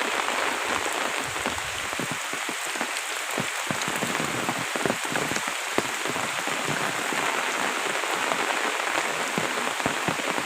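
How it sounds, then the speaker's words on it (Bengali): Heavy rain pours steadily on open ground near flooded fields and roads in Bangladesh, a dense, continuous hiss with scattered close drops pattering on surfaces, loud and without talk. "কখন বৃষ্টি ছাড়বে আল্লাহ পাকি জানে।"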